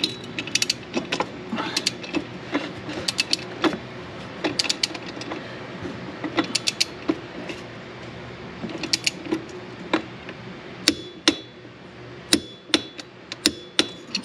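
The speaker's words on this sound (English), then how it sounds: "We're gonna put our leverage hammer back in there, and this is 45 foot-pounds." Sharp metallic impacts from a leverage hammer tightening a reverse-thread part on a Polaris to 45 foot-pounds, irregular bursts of rapid clattering hits, growing sparser and louder toward the end, close by.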